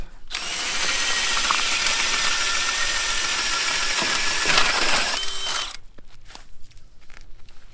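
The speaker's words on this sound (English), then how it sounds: "We'll drill a hole." A loud power drill grinds steadily through lake ice for about five seconds, then stops, leaving scattered scraping and clattering sounds.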